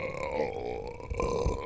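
A long, drawn-out burp, low and guttural with a wavering pitch, sustained close to the mic for nearly two seconds.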